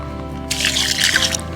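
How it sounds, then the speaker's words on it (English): Water splashes in a short, close trickle partway through onto a ground bait mix being prepared for a carp method feeder, above a steady low background hum. "just add a wee small amount of water"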